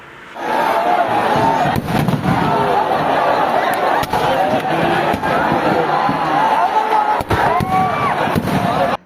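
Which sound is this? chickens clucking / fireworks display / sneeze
fireworks display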